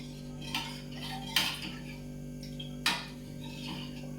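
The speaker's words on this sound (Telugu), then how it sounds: "అన్నీ బాగా మిక్స్ అయ్యేలాగా కలుపుకోవాలి." A metal spoon stirs vegetable sambar in a cooking pot, making soft scraping sounds and two sharper clinks against the rim over a low steady hum.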